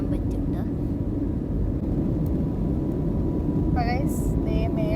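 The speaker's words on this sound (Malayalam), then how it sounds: "നമ്മളുടെ ഫ്ലൈറ്റ് ടേക്ക് ഓഫ് ചെയ്തിട്ടുണ്ട്" Inside an airliner climbing after takeoff from Kochi on a flight to New Delhi, a constant broad cabin roar fills the air, with a voice speaking briefly near the end.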